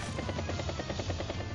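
A battle copter unit moves in the video game Advance Wars: Days of Ruin, a loud steady helicopter rotor chop beating in a fast even rhythm throughout.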